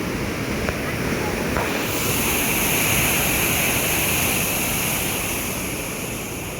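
Water rushing at full flow through opened dam gates, a loud continuous roar of churning water close by, steady and broadband with some wind buffeting on the microphone.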